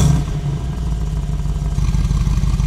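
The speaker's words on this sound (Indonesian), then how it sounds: "dari 3000 itu sudah langsung keluar suara deruman monsternya tuh" A Mercedes-AMG G 63 Mansory SUV with a quiet exhaust setting is revved near the 3000–4000 rpm range, giving a close, loud, steady deep engine drone with a rhythmic pulsing throb that builds slightly toward the end.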